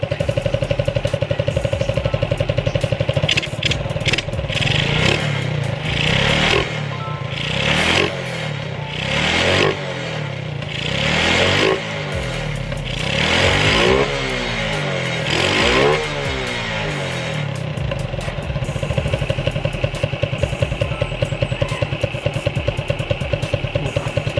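A Suzuki Smash motorcycle engine runs steadily after rejetting, loud and close, with repeated throttle blips swelling and falling over a constant idling drone.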